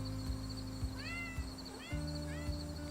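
Several short meows from pet cats in an apartment, three or four brief rising calls spread across a few seconds over a steady background hum.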